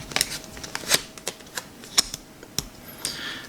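Quick, crisp flicks and snaps of Cardfight!! Vanguard trading cards being shuffled by hand, irregular bursts close to the microphone, no talking.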